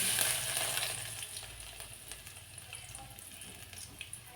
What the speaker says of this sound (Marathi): दोन चमचे तेल घालायचं आणि भरपूर असा चिरलेला लसूण घालायचा लसणाची कडकडीत फोडणी दिली